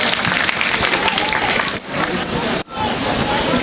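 An audience at a public speaking event breaks into loud, sustained applause, a dense wash of many hands clapping with a couple of brief dips in intensity.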